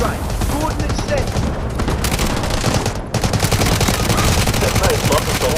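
Guided missile strike in the video game Delta Force, with dense rapid-fire explosions and crackling blasts crowding together loudly and continuously, briefly dipping before resuming at full intensity.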